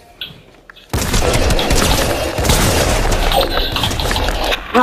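Sniper rifle fire in Fortnite Chapter 5 opens with a sudden loud boom after a near-silent moment, followed by sustained dense gunfire and explosive crackle for several seconds.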